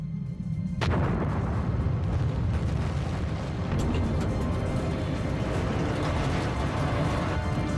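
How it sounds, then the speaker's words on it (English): A sudden heavy boom gives way to a sustained, roaring rumble that rolls on densely and loudly to the end, like a massive explosion, as a detonation tears through the front of the Russian submarine Kursk. "another detonation rips through the front of the Kursk"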